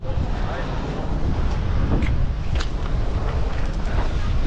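Strong wind blows across a fishing pier, a loud, constant roar of buffeting microphone wind noise that drowns out everything else for the whole stretch.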